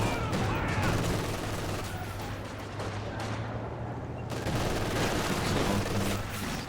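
Machine gun fire in a real-time strategy video game battle, dense continuous bursts of gunfire and explosions filling the stretch, with a low steady hum underneath and a commentator's voice faintly mixed in.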